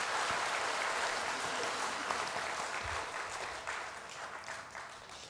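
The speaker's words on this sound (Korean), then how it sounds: "박수 한번 주세요" A church congregation at a Parents' Day service claps steadily, a dense wash of applause that stays loud for the whole stretch and eases only slightly toward the end.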